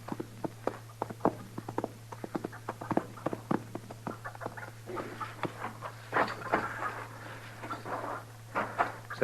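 Horse hooves clatter in a rapid, uneven run in a 1952 radio drama sound effect, dense clip-clop beats continuing steadily over a low constant hum with no speech.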